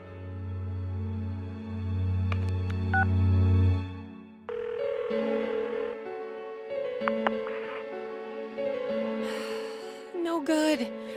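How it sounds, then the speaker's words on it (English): A phone in a Persona 4 game scene is dialed and rings through, steady tonal electronic pulses with a brief beep sequence and faint background hum, no talking. "Give her another call."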